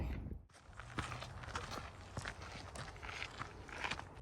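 Footsteps crunch along a snowy high-altitude mountain trail at Hoosier Pass in the Colorado Rockies, a quiet, irregular series of close steps with light scuffs.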